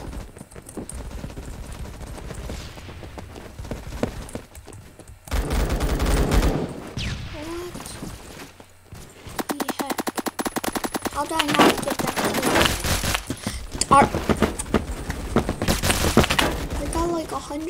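Scar PDW gunfire in the Phantom Forces shooter game, loud rapid bursts of automatic fire in several runs separated by brief pauses, with other game sounds in between.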